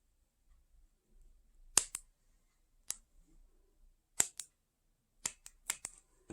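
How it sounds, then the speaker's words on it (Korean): Small scissors snip a slit in a handmade dressable doll's face to widen a hole for a button eye, giving sparse, crisp, close metallic clicks, single and in quick pairs, with quiet pauses between. "작은 가위를 이용해서 눈이 들어갈 자리를 살짝 이렇게 가위집을 줘서"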